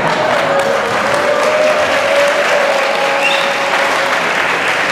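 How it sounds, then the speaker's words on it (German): A large audience at a dance school gala breaks into loud, sustained applause that holds steady throughout, with no talk over it. "Sie dürfen jetzt klatschen."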